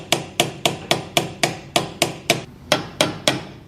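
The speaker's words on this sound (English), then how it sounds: "my little hammer works just fine" Small hammer striking car brakes, eleven sharp, evenly spaced metallic knocks at a steady rhythm, close and loud with no talking.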